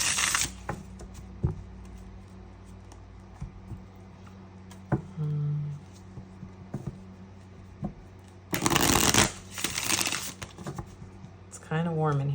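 Tarot cards are shuffled indoors in a few soft riffling bursts, the longest lasting about two seconds near the end, between scattered light taps and handling noises, close and fairly quiet.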